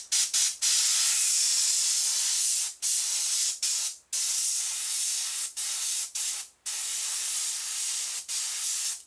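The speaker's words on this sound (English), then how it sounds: "So latex, black latex paint is what I'm using right now. So we're just going to go along with the airbrush" An airbrush sprays black latex paint onto carved foam dungeon walls, a close steady hiss held for long stretches and broken by several brief cut-offs as the trigger is released and pressed again.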